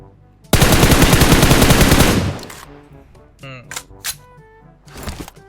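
Gunfire in PUBG Mobile, opening with a loud burst of rapid automatic fire lasting about a second and a half, followed by a few scattered shots while people talk.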